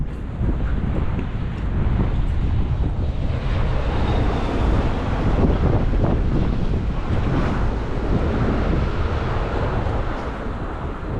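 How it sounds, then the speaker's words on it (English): Cold, strong wind roars steadily across the microphone at a rail yard in Vienna, Austria, a dense, continuous gusty rush that stays loud and unbroken throughout with no talking. "It's pretty cold and windy here, the weather's not that good."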